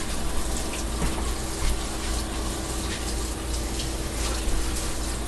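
A kitchen sink tap runs steadily, a loud, continuous close-up gush of water that holds an even level from start to finish, with no voices over it.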